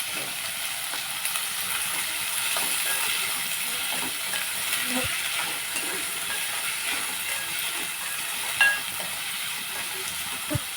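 Chopped onions fry in oil in a pan for a gram flour curry, giving a steady, moderate sizzling hiss with faint stirring clicks throughout and no talking.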